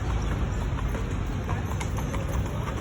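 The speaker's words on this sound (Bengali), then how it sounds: "অনেক অনেক সুন্দরভাবে সারিবদ্ধভাবে রাখছে ঘোড়ার গাড়ি" Horse-drawn carriages stand lined up outdoors while horses' hooves clip-clop in a steady, irregular patter at moderate distance over a constant low rumble of ambient noise.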